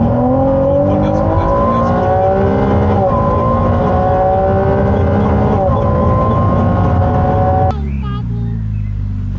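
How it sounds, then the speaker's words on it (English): A Ferrari 296 GTB engine revving loud and close, rising in pitch through repeated gear pulls before dropping off sharply near the end. "we just got to drive the Ferrari 296 GTB"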